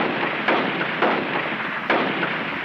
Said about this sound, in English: The Garand riflemen fire from 15 to 30 rounds a minute.